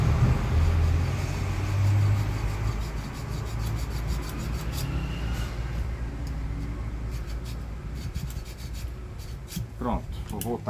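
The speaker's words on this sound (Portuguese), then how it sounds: "passar uma lixinha de unha, aqui, Essa aqui é muito larga, né? é muito grossa. tem uma mais fininha aqui." A thin nail file rasps against a small part of a clothes iron under repair, making a continuous scratchy rubbing with a low rumble beneath it and a few faint clicks near the end.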